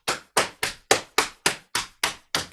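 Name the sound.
loud patting on knees imitating heavier rain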